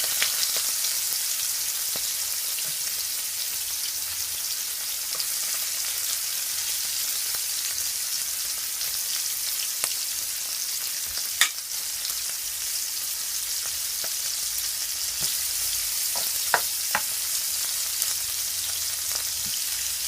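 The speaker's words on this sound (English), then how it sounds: "I'm just gonna allow it to fry for at least 3 minutes on each side" Spicy sweet chilli prawns fry in a pan with a steady, even sizzle and occasional small pops and crackles, close and continuous with no talking.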